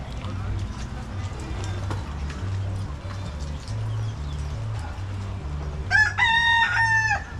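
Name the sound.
chicken crowing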